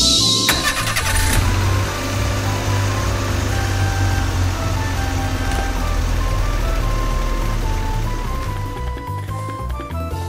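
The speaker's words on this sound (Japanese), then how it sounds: "じゃあ運転手さん、今度こそジャムおじさんのところによろしくお願いします" A cartoon vehicle in an Anpanman theater story starts its engine and drives off, a loud, steady motor drone with a rising sweep and musical tones layered over it, fading slightly at the end.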